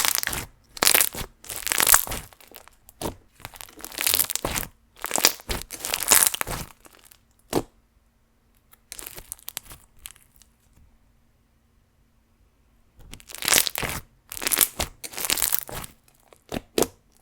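Pineapple upside down cake scented slime packed with fishbowl beads gets squished and crunched up close, in crackling bursts separated by short silent pauses.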